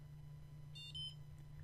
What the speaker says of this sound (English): you hear the beep, that means it's reading it